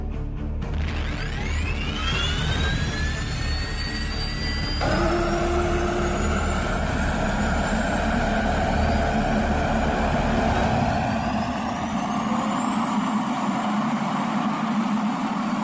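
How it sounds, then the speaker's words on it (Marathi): A suicide drone attack sound effect from an Operation Sindoor tableau at a 2025 Ganeshotsav plays loudly: a droning engine roar with whining tones that sweep steadily upward, continuous and without voices. "पाकिस्तानने देखील सुसाईड ड्रोनद्वारे प्रतिहल्ला केला"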